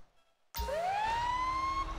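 A fire truck siren in a video game bursts in loud and close after a half-second of quiet, holding a steady rising wail through the rest of the clip.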